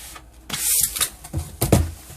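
New HP all-in-one printer slid out of its cardboard box, with scraping, rustling and bumping bursts of packaging friction close by, no talking.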